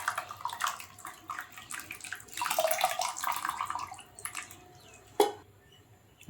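Tamarind water is poured into a pot of fish curry, with a sustained close splashing pour that tapers off, followed by a sharp single drip or splash.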